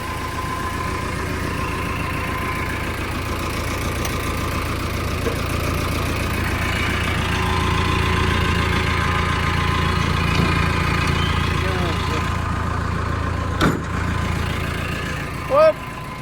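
A farm tractor's engine idles close by with a steady, continuous low rumble, broken only by a brief sharp click late on.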